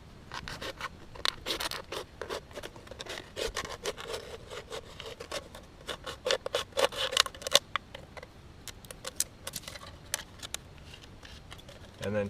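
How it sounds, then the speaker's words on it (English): Close, scratchy rasping and cutting strokes as a plastic bottle is cut around one of its ridge lines, an irregular run of short gritty bursts that continues throughout. "I'm just cutting down the bottle down one of these ridge lines"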